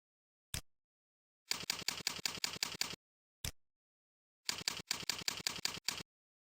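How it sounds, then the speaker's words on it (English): A password is typed on a computer keyboard in two quick bursts of crisp, close key clicks, each preceded by a single isolated keystroke, with silence between and no voices. "Choose a password and type it in these two boxes."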